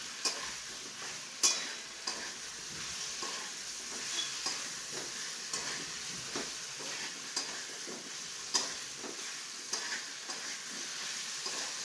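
Brinjal sautéed with homemade red masala in a pan for a wedding-style vegetable dish: a steady, close sizzle with scattered scrapes and ticks of stirring, carrying on alone without any talk.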